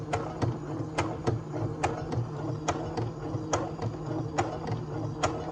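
Sewing machine stitching a 1/2 inch seam allowance in fabric, a steady low motor hum broken by sharp regular ticks of the needle, close and clear with no talking.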